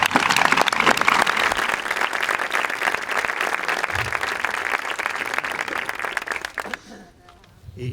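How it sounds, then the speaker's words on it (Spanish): An audience at a lecture claps loudly and steadily for about seven seconds, then the applause fades out quickly, leaving a quiet room. "Y yo pido para todos ellos un aplauso lo más fuerte que se pueda."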